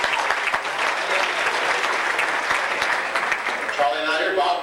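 A banquet crowd at a 1992 racing champions dinner claps for an award winner, sustained full-room applause at an even level, with a voice speaking near the end.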